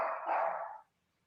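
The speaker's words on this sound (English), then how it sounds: "Can you get the dogs to shut up?" A dog gives a single short bark or yelp in a home setting, fairly close and clear, then silence follows.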